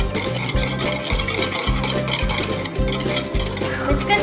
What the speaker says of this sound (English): Then we're going to whisk it up.